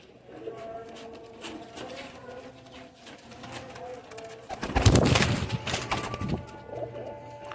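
A pair of breeder pigeons coos in low, repeated calls, with a louder burst of rustling and flapping midway before the cooing resumes.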